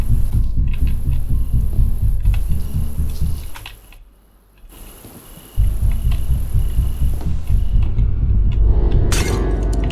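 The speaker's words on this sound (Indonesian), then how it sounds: "masih ada suara deg-degan bikin gue kaget aja" A low, thumping heartbeat pulses in the Hello Neighbor video game, a steady throbbing rhythm under a droning hum that drops away briefly in the middle before returning loud and close.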